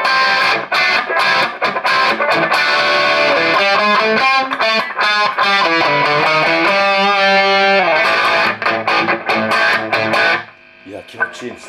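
Loud distorted electric guitar, a 2006 Gibson Les Paul Standard Gold Top on its rear pickup, playing chords and a run of single notes with a bright, twangy bite, then a brief quiet pause and a softer phrase.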